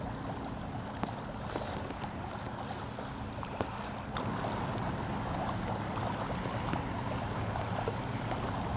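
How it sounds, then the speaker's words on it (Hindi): Sea waves near the Seven Mile Bridge in Marathon, a steady, full wash of surf and wind that rolls on evenly without a break and sounds fairly close. "यहाँ लहरों की आप आवाज़ सुने।"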